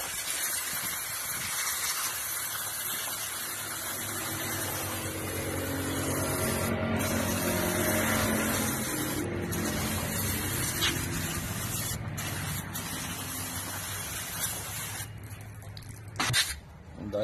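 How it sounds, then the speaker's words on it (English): Brake cleaner sprayed onto rear drum brake parts of a Nissan Sentra 1.8L, a long continuous close hiss from the aerosol can with a faint squeal, broken by several short pauses near the end. "brake cleaner."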